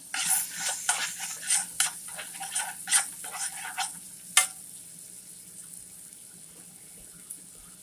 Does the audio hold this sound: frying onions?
yes